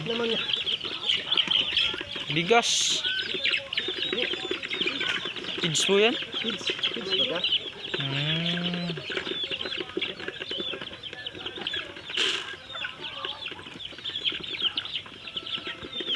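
Chickens clucking on a farm in the Philippines, including large hens, sound from fairly close in short bursts amid steady birdsong and outdoor ambience, while people talk over them in the foreground.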